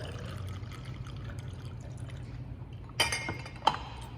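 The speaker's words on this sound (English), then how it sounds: "What we're going to do is start off with a ginger lemonade. You're going to do about 4 ounces of that." Ginger lemonade is poured into a glass while a rum cocktail is being made: a faint, steady trickle and fill, followed by two sharp clinks of glass near the end.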